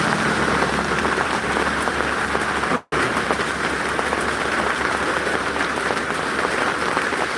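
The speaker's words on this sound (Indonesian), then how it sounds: "hujan ini Bang, hujan ini udah lama dinanti" Steady rain pours down in a broad, even hiss with dense patter on surfaces, continuous and fairly loud apart from a sudden brief cutout partway through.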